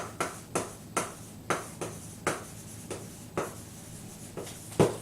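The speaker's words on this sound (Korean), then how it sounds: "조금 더 써볼게요." Writing strokes on a board come as about ten short, crisp scratches at a fairly regular rhythm, close and clear with no talk over them, the last one slightly louder.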